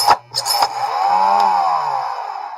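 A small hand cutter bites through a wooden Jenga block with a sharp crack. A sustained, gliding, tonal creak follows and fades out, heard up close with no talking.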